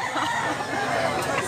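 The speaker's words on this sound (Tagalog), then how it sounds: "Napakagwapong manok mga idol" A Black League gamecock rooster crows at a gamefowl sale in Mantalungon, Cebu: one short, loud call over a busy, noisy background.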